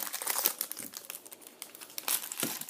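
Foil sticker packets from a FIFA World Cup Brasil 2014 box rustling and crinkling as they are picked through by hand, continuous close crackling with sharper bursts, no speech.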